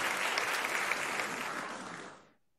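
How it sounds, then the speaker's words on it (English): Sustained audience applause at a Christian versus Adventist debate event, dense steady clapping that fills the room and fades out toward the end. "Let's give him a round of applause, shall we?"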